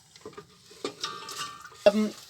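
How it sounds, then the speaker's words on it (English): Chopped garlic and onions go into hot oil in a pan, with a few soft sizzles and the scrape and clatter of a utensil against the pan, fairly quiet and close. "in goes the garlic, which is now finely chopped, and in goes the onions"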